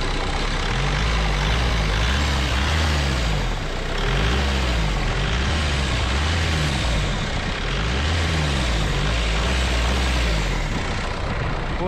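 A Volkswagen Passat engine runs with its oil filter removed, a loud, constant rumbling drone with a deep, throbbing low end that holds steady throughout.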